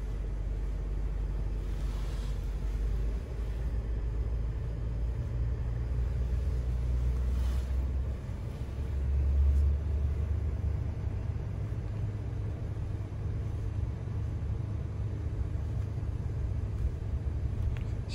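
A 2020 Chevrolet 2500 High Country pickup driving, heard from inside as a continuous low engine and road rumble with light wind noise, steady throughout with a slight swell midway.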